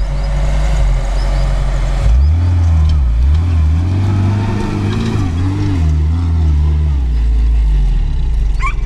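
Lada Niva fitted with AVT self-locking differentials driving off-road on an outing, a loud close engine growl that rises and falls as it revs and strains over rough ground, with no speech.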